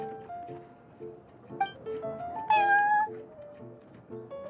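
A cat in Genshin Impact meows twice, a short cry followed by a louder, rising mew, over a steady looping background music bed with no talk.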